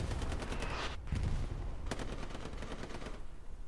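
Rapid bursts of gunfire from a Hell Let Loose match, steady overlapping shots with sharp cracks near and distant, dense and continuous throughout with no talking.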